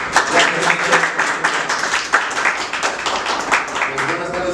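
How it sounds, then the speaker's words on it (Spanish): An audience applauds, dense clapping that holds steady and fills the room. "le demos un aplauso"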